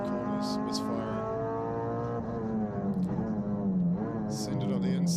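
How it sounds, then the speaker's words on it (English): A production race car engine runs through slow corners on a circuit, its harmonic drone rising and falling with throttle changes and a slightly ragged, uneven note, while a commentator talks over it. "Sounds like the car's missing a little bit as well out of these slow corners, misfiring."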